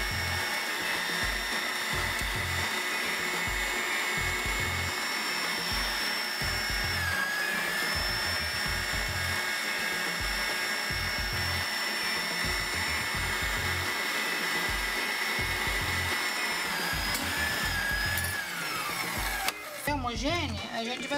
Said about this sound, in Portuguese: A gente vai colocar na batedeira de novo, vai colocar os ovos um por vez